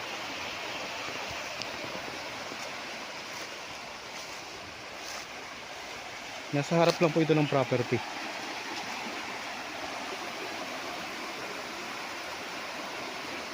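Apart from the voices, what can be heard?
water rushing through irrigation canal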